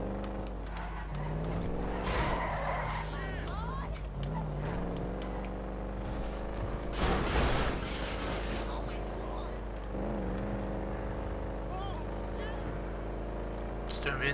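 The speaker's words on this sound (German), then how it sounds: "Das ist irgendwie ein Traktor." A tractor driven in a video game, with a buzzing engine drone and shifting harmonic whine that rises and falls over about fourteen seconds, with a louder burst midway and no one talking.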